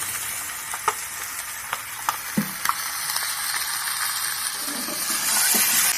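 Boiled soybeans hit a hot frying pan, giving a steady sizzle that swells toward the end, with scattered clinks and scrapes of a utensil throughout.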